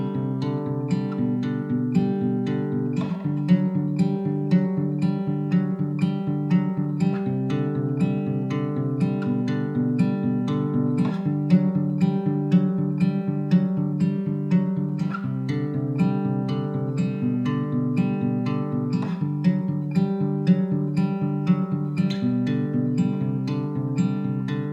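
A guitar plays the chorus riff of a song all the way through, with the main riff repeating and a variation in one pass, strummed continuously at an even, moderate loudness.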